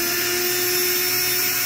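A power drill backs screws out of the side of a wooden shipping crate, giving a steady, loud, high-pitched whine close by with no talking.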